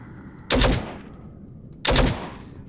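Two loud, close single gunshots from a firearm in the survival shooter The Withering, spaced over a second apart, each a sharp crack with a brief tail over quiet background.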